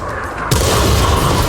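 A World of Tanks artillery shell fires and detonates with a sudden loud boom, then a dense, sustained roar of blast noise fills the rest of the moment, with no voices.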